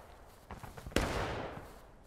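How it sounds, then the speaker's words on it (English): Musket gunfire in a war video game: a few scattered soft pops, then one sharp, loud shot around midway that rings and decays into a lingering rumble, heard without talk. "Why does the background kind of sound like? Like automatic muskets."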